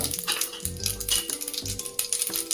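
Mustard seeds, cumin and asafoetida sizzle and crackle in a spoonful of hot oil for a Marathi tempering, with a busy hiss, light popping and occasional clinks of a spoon or pan.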